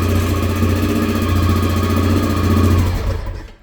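A Honda XR650L motorcycle engine runs loud and steady with a low throbbing idle and mechanical clatter, no talking, before cutting out abruptly near the end.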